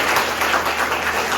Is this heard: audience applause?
yes